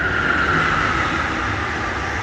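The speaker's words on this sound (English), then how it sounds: "here comes the train" A train rumbles past close by beside a fire-damaged garage being refurbished, a loud, steady roar of rail cars that holds for the whole stretch with no voices.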